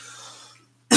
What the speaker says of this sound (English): I'm going to go over here and cough for a second here.